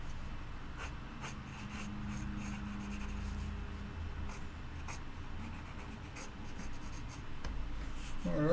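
Pencil drawing on paper, a soft, close scratching and rubbing made of short repeated strokes, faint and steady, with no speech.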